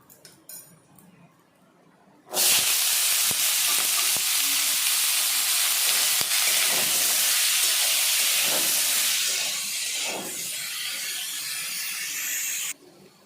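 After a brief quiet start, potatoes hit hot mustard oil seasoned with salt and turmeric and a loud, close hissing sizzle erupts, then eases slightly near the end. Stirring clinks sound in the background.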